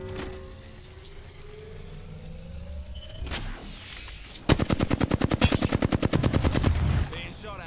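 Automatic gunfire in the video game Apex Legends, in Arenas mode: a loud, rapid burst of evenly spaced shots lasting about two and a half seconds, coming after a stretch of rumbling game ambience and a sweeping whoosh.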